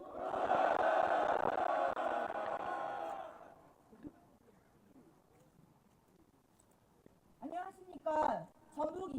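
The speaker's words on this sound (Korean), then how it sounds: "힘찬 박수와 함성으로 맞아주십시오." Loud crowd cheering and applause at a political party rally resolution event, a roaring swell that fades after a few seconds into quiet, followed by a voice speaking.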